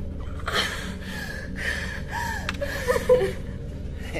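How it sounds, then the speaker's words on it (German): Heavy, rhythmic panting breaths come from a character in a science-fiction radio drama, repeated gasping inhales and exhales that are loud and close over a low steady background hum. "Wenn du weiter so schnaufst, kippst du gleich um."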